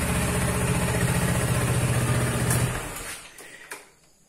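Motorcycle engine idling steadily while warming up on a morning, loud and close, a continuous even rumble for under three seconds before it cuts off and fades to quiet.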